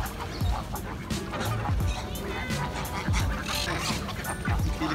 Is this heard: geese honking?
yes